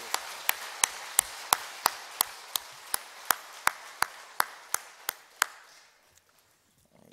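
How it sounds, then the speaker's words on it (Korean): A church congregation applauds at a pastor's installation thanksgiving service: about fifteen sharp, evenly spaced claps ring out one after another, loud and close, before the sound fades into quiet. "하나님께는 영광의 박수고 목사님에게는 격려의 박수를 한번 드리겠습니다."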